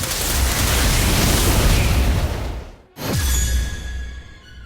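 A Confringo explosion spell in Harry Potter Magic Awakened erupts as a long, loud, roaring blast, dies away to a brief silence, then a second burst follows with a falling whistle-like tone and ringing debris.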